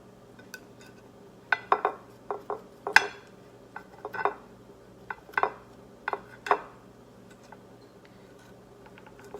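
Aloe vera gel is mashed in a bowl, giving a run of about a dozen sharp clinks and taps of utensil against dish at irregular intervals, close and clear over a quiet background.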